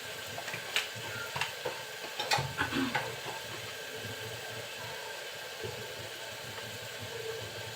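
Ground turmeric, coriander and chili powder fry in hot oil for a small-shrimp, yardlong bean and potato chorchori, giving a soft steady sizzle broken by a few faint stirring clicks and scrapes, with no talk.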